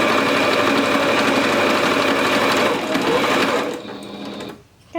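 A sewing machine stitches towel fabric steadily at close range with a fast mechanical stitching drone, slowing briefly near the end before stopping.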